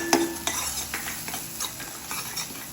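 Vegetable curry with green chili cooking in a pan, a soft continuous sizzle broken by several scraping spoon strokes against the metal, close and without talk.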